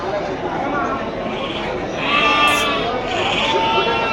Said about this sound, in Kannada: ಸರ್ ಇವು ಕ್ರಾಸ್ ಕುರಿ